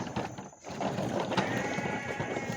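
A goat bleats faintly amid a steady, noisy rumble of an old truck on a shopping trip, the thin drawn-out cry partly buried under the continuous engine and road noise.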